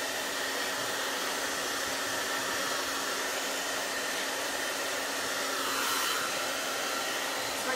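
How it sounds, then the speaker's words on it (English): A hair dryer blows steadily while thin hair is dried straight up, a loud close whooshing hiss with a constant motor hum, the airflow shifting slightly as it moves. "We're going back the opposite way while drying the hair straight up"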